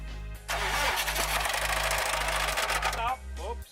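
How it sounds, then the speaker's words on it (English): A Subaru STI engine cranks and catches, then runs roughly with a rapid metallic rod knock ticking through the idle before it cuts off abruptly; voices are briefly heard near the end. "It's probably rod knock"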